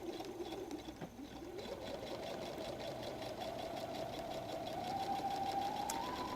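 A sewing machine runs steadily, stitching across the top of a messenger bag's pocket flap, its close, even motor whir rising slightly in pitch near the end with no talking.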